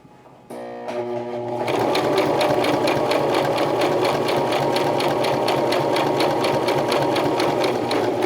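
Sewing machine running steadily, needle stitching through fabric in a fast, even mechanical rhythm after a brief slower start; loud, close and continuous with no talking.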